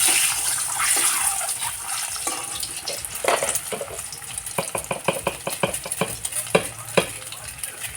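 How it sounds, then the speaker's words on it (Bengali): Eggs frying in a pan with a pinch of turmeric, a steady sizzle with several sharp clicks and taps of a spatula stirring, close and moderately loud, no talking. "ডিমগুলো ভেজে নেব।"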